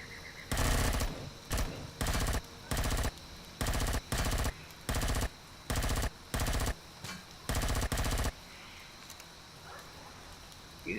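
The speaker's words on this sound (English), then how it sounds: "Something's shooting at me." Bursts of automatic gunfire strike at the player in the Empyrion space survival game, a dozen or so loud, evenly repeated rattling volleys with short gaps, over a faint ambient hum.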